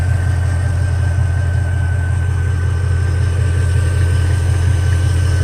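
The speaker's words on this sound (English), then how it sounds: "If you look at the engine and see how it's running" A Mercedes-Benz engine runs at a steady idle, a loud, constant low rumble with an even mechanical drone and a faint high whine, close by and heard alone without any talking.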